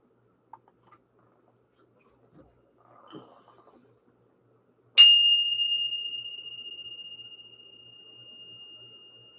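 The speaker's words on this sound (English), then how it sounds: "Spirit wants me to go ahead and ring the bell and clear the energy" A single bell strike, rung to clear energy, cuts through near silence and rings on with a long, slowly fading tone, after a few faint taps and rustles.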